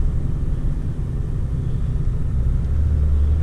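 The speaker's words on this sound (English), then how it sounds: "So that's what the exhaust brake will do for you" A deep, steady engine rumble with a low throaty drone from a turbo diesel truck's exhaust brake while coasting off the gas, loud and continuous with no voices.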